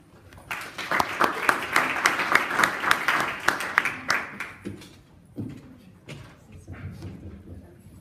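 An audience applauds to welcome a speaker at an educational technology talk, a burst of clapping that swells, holds for several seconds, then thins into scattered claps and room noise.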